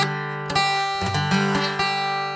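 A beginner guitar chord strummed with buzzing, muted strings, several uneven strokes with dull rattly attacks over a ringing tone, close and alone without speech.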